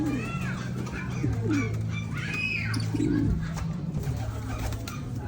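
Pigeons coo in low, repeated throaty calls during a free-flying pigeon session, with other birds chirping faintly and a steady background hum throughout.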